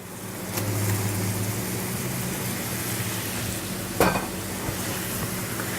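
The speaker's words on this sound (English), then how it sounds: "Go ahead and drop my pasta in." Pasta goes into a hot pan with capers, setting off a steady, close sizzle and frying hiss that runs throughout, broken once by a brief sharp clink of metal against the pan.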